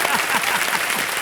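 On the set of a TV quiz show, a studio audience breaks into brief, dense applause, a continuous close patter of many hands clapping.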